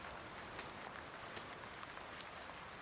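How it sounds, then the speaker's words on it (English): Steady rain falls in the farming game Farming Simulator 19, a dense, even hiss of drops with faint patters, constant and close throughout with no talk. "Check the radar and see how long this rain is supposed to be here."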